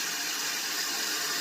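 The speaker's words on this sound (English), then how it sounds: "You can clearly see inside that tank, water's filling up." Water rushes steadily into a toilet tank through the fill valve, a loud, continuous hissing flow heard up close with no pauses.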